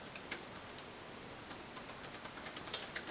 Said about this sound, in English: Right now I am using my laptop keyboard